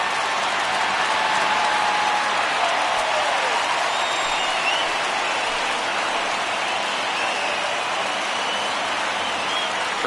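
Dense, steady stadium crowd roar in an MLB Pirates baseball video game, building as fans rise for a full count, loud and continuous throughout with no clear pauses.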